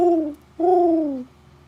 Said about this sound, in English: Pigeon was cooing away.